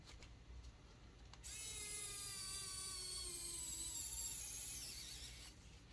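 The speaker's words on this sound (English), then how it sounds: "Tighten these down." Small screws being driven down into a radio-control servo after replacing stripped plastic gears, a steady rising whir like a small powered driver lasting several seconds, close and fairly loud, with no talking.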